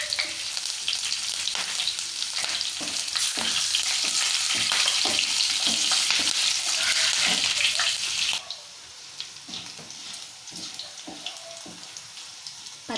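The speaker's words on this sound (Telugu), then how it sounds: "తాలింపు వేగిన తర్వాత పచ్చిమిర్చి యాడ్ చేసుకోవాలి." Green chillies fry in hot tempering oil with curry leaves for an egg fry, giving a loud, steady, crackling sizzle with stirring clicks that drops to a quieter sizzle partway through.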